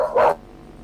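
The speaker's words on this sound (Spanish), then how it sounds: "Perdón, que la perra... Ladran Sancho." A female dog gives one short, fairly loud bark nearby, followed by quiet.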